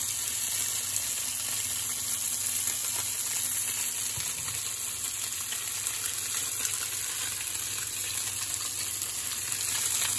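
Seasoned whiting fillets from the Gulf of Mexico fry in a hot pan with a steady, bright hiss that holds evenly throughout, close and continuous without talk.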